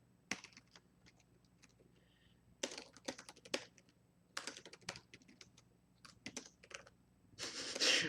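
Keys on a computer keyboard clatter in quick bursts separated by pauses, close and fairly quiet, with no voice.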